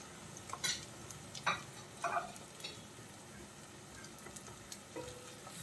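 Quiet, soft sizzling of ginger and garlic sautéing in a pan with a few scraping stirs of a spoon, no voices.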